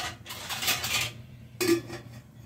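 An aluminium lid for a milk pot set down on a small cooking pot, giving a bright metallic clink and short ring near the end, after earlier soft kitchen clatter.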